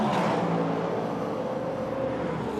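Peugeot 93 endurance race car rolling into the pit lane at a Qatar race, a steady broadband engine drone with a low hum, close and continuous throughout without a clear pass-by peak.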